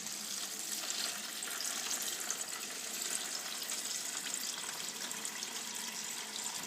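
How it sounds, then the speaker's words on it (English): Tap water running steadily into a plastic Tupperware container of rice, a continuous hissing splash that stays even and fairly close throughout. "You do fill it with water."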